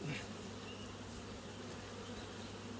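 A steady, low hum of many honeybees buzzing close by around a hive, continuous and even, with a faint higher drone drifting in now and then.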